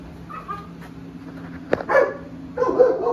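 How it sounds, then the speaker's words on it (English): A dog barks excitedly in a few sharp bursts at middle distance, over a steady low hum in a home engine shop where a 5.3 LS engine is being fitted with new cylinder heads. "Dog's going crazy over there."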